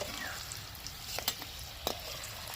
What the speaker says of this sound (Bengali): ছোলাটা কি সুন্দর ভাজা হয়ে গেছে একদম এরকমভাবে পুরো ভেজে তুলে নিতে হবে